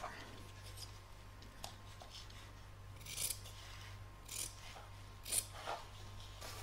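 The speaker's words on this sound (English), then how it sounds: "I'm going to trim off the excess fabric here, just leaving about 1/4 inch seam allowance" Scissors trim excess fabric from a stitched, lined in-the-hoop bag, making several soft, scratchy snips at an even pace over a steady low hum, with no talking.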